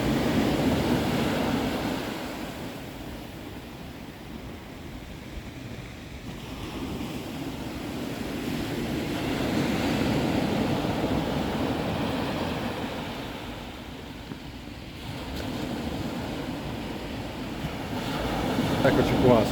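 A swollen sea surges at high tide on the Ligurian coast, broad washing surf that builds and recedes in slow waves, with gusty wind buffeting the microphone throughout.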